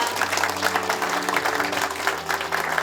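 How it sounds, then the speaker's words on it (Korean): Audience applause at a Gyeongsangbuk-do investment awards ceremony, a steady patter of clapping hands at moderate loudness under a faint background tone. "정면 보시고 박수 한번 부탁드립니다."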